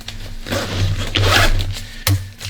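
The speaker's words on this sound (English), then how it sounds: "and zipper it up" A zipper drawn along a bag in a few rasping pulls, close and loud, ending with a quick final tug.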